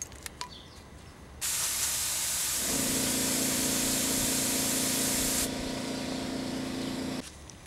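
Aerosol spray paint hisses in a long steady burst, with a short rattle of can shaking beforehand, during silver paint work on a Windy U Master 895; the spray is loud and close and cuts off abruptly near the end.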